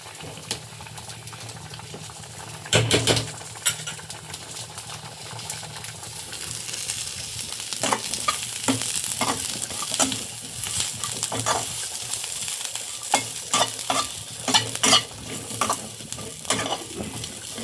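Ingredients for a curry being dry-roasted and stirred in a pan, with a soft continuous sizzle and bubbling broken by repeated close scraping and clinking stir strokes that grow busier later on, with no speech.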